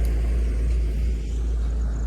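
A vehicle on the road produces a steady, heavy low rumble close at hand, continuous throughout without clear rise or fall, with no talking.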